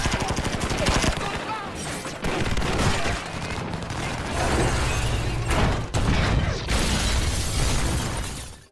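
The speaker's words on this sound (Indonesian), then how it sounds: "Adu tembak di antara kedua kelompok itu pun tak terhindarkan." Gunfight between two armed groups in The Expendables, loud and continuous with dense overlapping gunshots, crashes and mechanical clatter filling the whole stretch under a busy action-film soundtrack.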